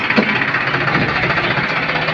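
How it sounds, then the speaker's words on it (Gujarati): A tractor engine starts and runs steadily at close range, a rough continuous rumble with a faint knocking pulse. "ટ્રેક્ટર ચાલુ થઈ ગયું છે"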